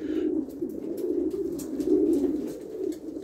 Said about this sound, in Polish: tu mamy gołąbki właśnie też młode